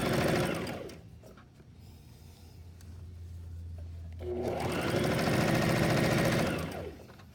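A sewing machine runs in two long bursts while a Christmas stocking is stitched, a steady close whirring hum with a short quieter pause between runs.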